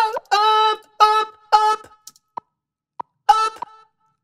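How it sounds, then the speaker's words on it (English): A metronome ticks in a music studio during a vocal recording session, giving short, evenly spaced clicks about every 0.6 seconds, some standing alone and some landing under loud, sustained harmonic notes from a voice or instrument. "but turn the metronome on."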